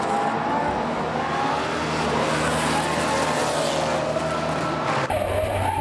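Drift cars battling at a Formula Drift event: loud sustained engine roar and screeching tire squeal as cars slide past, filling the scene continuously with an abrupt shift near the end.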